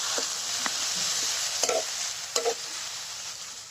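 Ground spice paste frying in a karahi that was just used for frying fish, giving a steady hiss with a few clanks and scrapes of stirring, close and alone.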